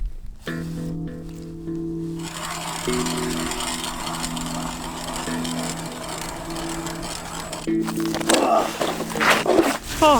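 A motorized ice auger bores through winter lake ice over 30 cm thick, droning continuously with a steady, slightly shifting engine pitch that turns rougher and louder near the end.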